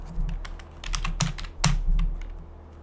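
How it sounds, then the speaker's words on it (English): Keys clatter on a computer keyboard as a message is typed for a display plate label in the Exotic Industries rocket silo game session, a quick uneven run of close, crisp clicks with two louder keystrokes and no talk. "we can type in a message"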